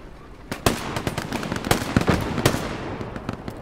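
Rapid bursts of gunfire from enemies behind the player in a shooter video game crackle in quick irregular volleys, sharp close cracks mixed with fainter distant shots throughout.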